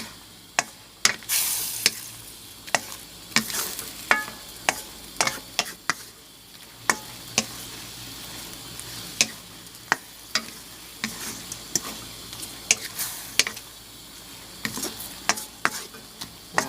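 Enoki mushrooms stir-fried with shrimp and pork in a pan, with a soft sizzle beneath sharp, irregular clacks of the spatula against the pan, repeating every second or so for the whole stretch, near and without talk.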